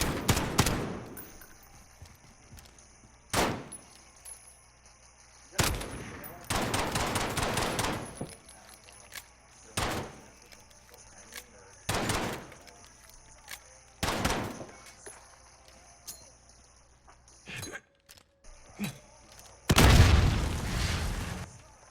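Repeated bursts of M4 rifle fire in the video game Modern Warfare, loud and sharp, each volley lasting about a second, separated by short pauses, with a heavier sustained burst near the end.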